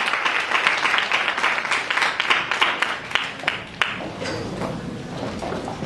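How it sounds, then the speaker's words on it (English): Partygoers at a purple-themed celebration give a steady round of applause, many hands clapping at a fairly close distance before the sound thins out and fades toward the end. "Can I please have a round of applause?"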